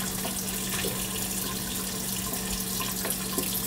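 Water running steadily from a kitchen faucet with its aerator removed and low flow, a soft continuous hiss and splash into the sink, close and even throughout, with no talking.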